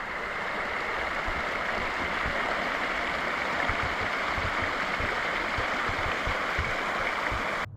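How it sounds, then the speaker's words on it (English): A creek with spawning fish flowing steadily, a continuous broadband rush and gurgle close by, even in level with no voices. "The fish are spawning here in the creek."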